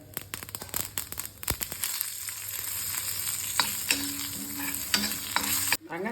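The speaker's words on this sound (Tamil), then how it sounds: "ஒரு தாளிப்பு போட்டுடலாம்" Mustard seeds and spices for tempering crackle and sizzle in hot oil, with a steady frying hiss and scattered sharp pops and stirring scrapes, close up, no voices.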